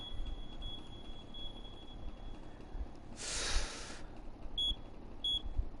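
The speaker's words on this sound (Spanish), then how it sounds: "Es la alarma. It's beeping. Está sonando. Just an alarm." In Dark Nights with Poe and Munro an electronic alarm gives a faint steady high tone, then a short burst of hiss, followed by two brief sharp beeps, all quiet and without speech.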